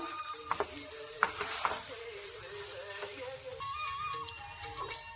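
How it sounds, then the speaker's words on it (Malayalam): Jackfruit and grated coconut sautéing with jaggery in a pan in a Kerala kitchen. A soft hiss sits under repeated scraping and stirring clatter, with some faint background voices. "ഇനി നമുക്കിതെല്ലാം കൂടി ഒന്നുകൂടി ഒന്ന് വഴറ്റി കൊടുക്കാം."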